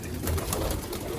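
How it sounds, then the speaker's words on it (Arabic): Pigeons coo softly and steadily in a loft of racing and domestic pigeons offered for sale, with low throaty calls repeating close by over a faint room background. "المجموعه اللي فرجتك عليها بتاعت الحمام الغزار، الحمام ده كله طالع مع بعضه"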